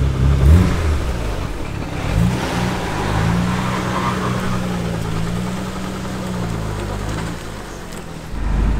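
Honda CRX with suspension mods accelerating, its engine revving up loud and close from inside the car, steady pull with pitch rising and easing before a brief drop and another surge at the end.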